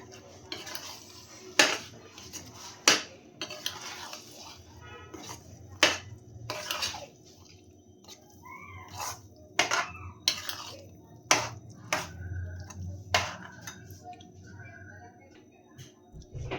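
Cooked vegetables being mixed into pav bhaji masala in a pan, with a spoon repeatedly scraping and knocking against the metal in sharp, irregular clinks, a low sizzle underneath and faint background noise.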